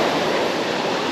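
Sea waves wash onto a sandy Lithuanian beach on the Baltic coast between Nida and Latvia, a continuous loud surf wash heard near the water, mixed with some wind and no talking.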